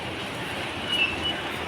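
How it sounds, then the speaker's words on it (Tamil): A train moves through a railway station with a steady rumble of wheels on track and a faint high squeal near the middle. It is heard alone with no talk. "இங்கே பாருங்கள், முன்னாடியே ஒரு ட்ரெயின் மூவ் ஆகிட்டுருக்கு."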